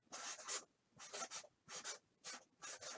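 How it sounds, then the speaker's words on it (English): A marker writing a word on the outside of a package for PSA card grading submission, with several short rhythmic scratchy strokes in quick bursts, close and fairly quiet with no talking. "I'm just going to write bulk on the outside"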